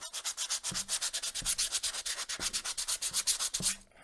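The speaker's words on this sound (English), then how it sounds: "higher grit sandpaper, a finer grit" Fine-grit sandpaper rubs back and forth in quick, even strokes, a dry rhythmic scratching heard alone and close up.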